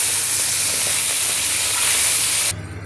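Fish fry in hot oil that spatters hard, giving a loud, dense, continuous sizzling hiss close by that cuts off abruptly near the end, leaving a quieter low hum.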